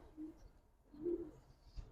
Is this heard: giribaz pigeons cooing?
yes